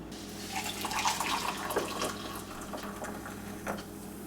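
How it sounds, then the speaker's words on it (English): Hot water at about 200 degrees poured into a clear glass of coffee, a steady close-up splashing stream that runs for a few seconds without any talk. "And then I'm going to add about 200 degree water."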